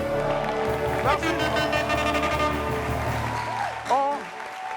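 Audience applause rolls steadily through a lively French-language talk show, with a performer speaking over the clapping and then saying a brief word of thanks as the crowd noise continues.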